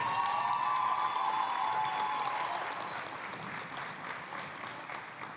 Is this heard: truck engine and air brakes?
no